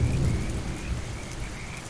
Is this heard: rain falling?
yes